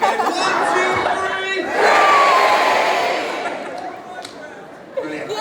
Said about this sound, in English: on the count of three, we're going to shout three, okay?